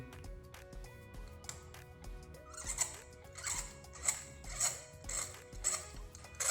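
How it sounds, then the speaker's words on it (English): Spark plug removal from a 2.5L Nissan Altima engine gives faint metallic ratcheting and clicking of a socket wrench in irregular clusters, close by and quiet, with no one talking. "Let's go ahead and remove our spark plug. So going in very carefully."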